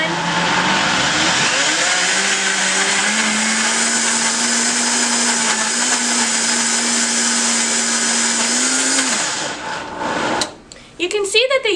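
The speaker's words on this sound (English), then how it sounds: "you guys can have a close-up view of how this blending is going to go down" A blender whirs loudly and steadily as it purees kale with yogurt and milk into a smoothie, its motor pitch rising slightly before it shuts off, followed by clatter and rattling.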